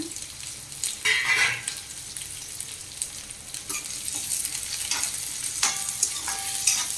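Onions sizzle and fry in a pan with garlic that has already browned, stirred now and then with a utensil scraping the metal, a close, steady crackle with bursts of stirring and no voices.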